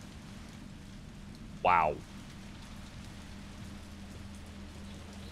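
Steady rain hisses throughout a rainy scene in the video game Resident Evil 3 Remake, soft and even, while a voice briefly exclaims once near the start.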